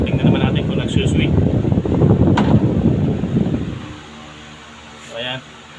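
A steady whooshing electric fan drone, newly fitted motor, with airy noise that eases and drops lower partway through as it oscillates, with a brief swell near the end.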